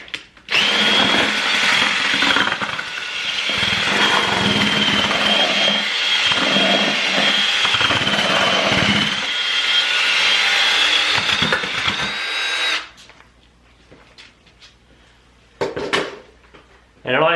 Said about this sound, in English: run this with your drill